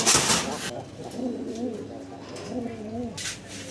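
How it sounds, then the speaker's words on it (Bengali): Fancy pigeons at a farm coo in soft, repeated wavering calls, close by, with a burst of rustling noise at the start and again near the end. "অল্প টাকায় আপনারা ভালো ভালো কিছু ফ্যান্সি কবুতর দেখতে পাচ্ছেন"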